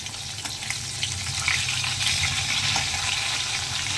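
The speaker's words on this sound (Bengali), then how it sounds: "একটু কড়া করে ভাজছি আজকে।" Fish fries crisply in a pan with a loud, continuous sizzle and hiss that swells slightly partway through. No voices are heard.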